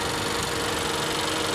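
A 2015 Honda Accord's 2.4 liter i-VTEC Earth Dreams four-cylinder engine runs at a steady idle, an even, close mechanical hum with no speech.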